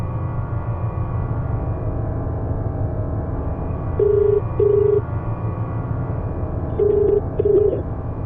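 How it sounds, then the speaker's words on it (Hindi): A phone call in a Hindi horror drama goes unanswered: two pairs of short electronic ringback tones sound at a moderate level over a constant low background hum, with a pause between the pairs and no voices. "विनय फोन नहीं उठा रहा।"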